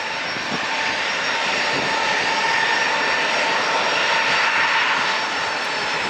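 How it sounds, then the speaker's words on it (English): A jet airliner takes off at San Diego International Airport, its engines giving a loud, sustained roar throughout from moderate distance, steady in level and unbroken by any voices. "That's the third one taking off."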